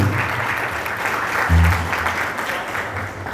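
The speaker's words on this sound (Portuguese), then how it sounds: "Aplaudam a Jesus e se assentem." A church congregation applauds during a service, a loud, steady wash of clapping from many hands lasting throughout, with a voice briefly heard over it.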